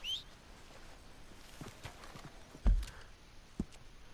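A horse called over in Red Dead Redemption 2 trots up in the game world: faint, sparse hoof clops, with a couple of sharper thuds standing out against a quiet background.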